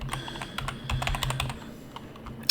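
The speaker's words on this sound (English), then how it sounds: "we're actually typing in the address wrong" Rapid, uneven keystrokes on a computer keyboard while a web address is typed, close-up clicks with a few brief pauses and no talking.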